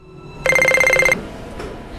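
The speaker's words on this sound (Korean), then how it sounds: "다음날 윌리엄에게 걸려오는 한 통의 전화." A telephone rings with an incoming call, one short electronic ring burst that stops after about a second, clear and fairly close, with quiet room tone after it.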